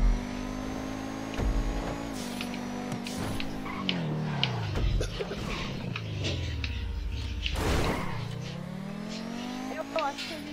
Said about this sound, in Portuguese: Eu posso acelerar ele no meio. Ah, eu acelero tudo. Eu fico acelerando direto.